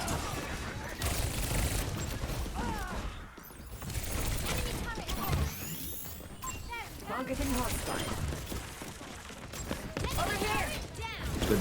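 Rapid gunfire from Tracer's pistols in Overwatch rattles in dense bursts alongside game mechanism clicks, with players talking over much of the action.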